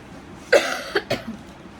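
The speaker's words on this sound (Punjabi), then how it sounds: "ਮੈਨੂੰ ਜਿਹੜੀ ਖਾਂਸੀ ਜ਼ੁਕਾਮ ਹੋਇਆ ਪਿਆ ਆ" A few sharp, close coughs from a person with a cold, in quick succession, the first loudest, with quiet room tone before and after.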